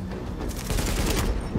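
Enemy gunfire in the video game Tom Clancy's The Division: a dense, loud stream of rapid shots that builds and stays close and heavy throughout, with no talking.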